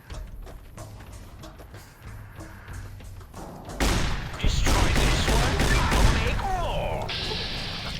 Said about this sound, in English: Good thing we brought the riot shotgun.